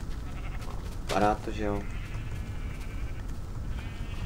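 Two bleats from Minecraft video-game sheep, a short wavering call and then a second one, heard close and clear while people talk over them.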